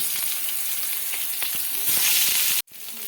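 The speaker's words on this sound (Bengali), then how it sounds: "এখন আমি ধীরে ধীরে একটা করে বেগুন আমি বসিয়ে দিচ্ছি।" Eggplant slices sizzle loudly in hot mustard oil on a griddle, a dense, steady frying hiss that swells as more pieces go in, then cuts off abruptly for a moment before resuming.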